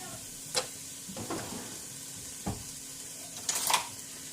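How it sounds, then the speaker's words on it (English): Half a diced onion sizzling in two tablespoons of butter for chicken tortilla soup, a faint steady hiss broken by a few sharp utensil taps and scrapes against the pot. "we're going to add about a half of a diced onion to 2 tablespoons of butter"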